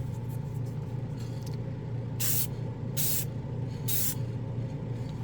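Tamiya lacquer gloss coat sprayed onto a plastic model in three short, bright hissing bursts about a second apart, over a steady low background rumble.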